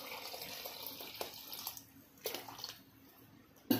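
Water poured from a vessel into dal khichda in a pressure cooker, a soft steady trickle with brief louder splashes, heard alone at low level.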